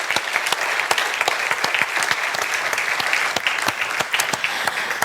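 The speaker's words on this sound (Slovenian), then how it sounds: "En aplavz za vse člane komisije." An audience at a business awards gala claps for the members of a judging committee, loud dense applause with sharp individual hand claps standing out throughout.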